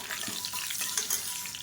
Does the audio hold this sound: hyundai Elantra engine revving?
no